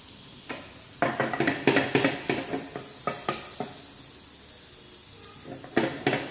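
Garlic sautéing in butter in a pan, with soft continuous sizzling broken by several bursts of stirring and scraping against the pan, close and moderately loud, with no talking.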